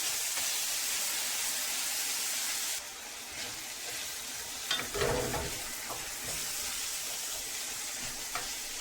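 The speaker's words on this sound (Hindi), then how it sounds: "इसको प्याज के साथ अच्छी तरह से मिक्स करेंगे।" Mash dal being stirred into browned fried onions in a pan, a soft scraping churn over a steady sizzle, with a few louder spoon scrapes near the middle and no talking.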